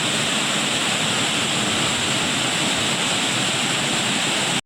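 Ozar waterfall at Bhiravande, Kankavli, in Konkan roars as a dense, steady rush of falling water, loud and unbroken throughout, with no voices heard.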